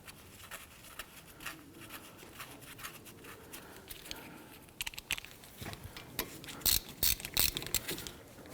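A ratchet clicks in quick bursts while bolts are threaded and snugged on a front brake caliper of a 2017–2020 Hyundai Elantra, soft at first and growing louder and sharper toward the end.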